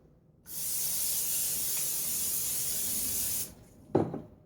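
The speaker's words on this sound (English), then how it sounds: "So I'm going to use the spray oil." A single continuous aerosol spray of cooking oil onto a waffle iron hisses steadily for about three seconds, then cuts off, followed by a brief clunk.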